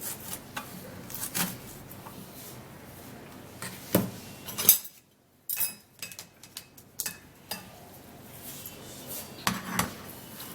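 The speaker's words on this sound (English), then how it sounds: "I'm going to be slicing the onion" A knife slices through an onion into pieces, giving light irregular taps and clicks against a board. The sounds are close but faint, with a short silent gap partway through.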